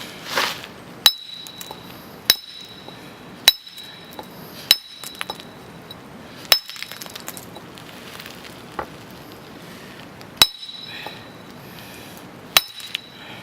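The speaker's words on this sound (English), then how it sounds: "Chiseling nice. Took off a nice chunk without too much force." A steel chisel strikes a quarried wall rock, squaring it up for a dry stone wall: sharp, ringing metallic clinks, about nine distinct blows spaced a second or two apart, close and clear over quiet outdoor background.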